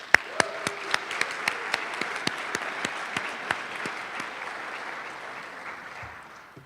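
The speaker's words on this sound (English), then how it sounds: "give yourself a round of applause" An audience at a medical school investiture ceremony applauds steadily for several seconds, dense clapping with a few sharp louder claps standing out, gradually fading at the end.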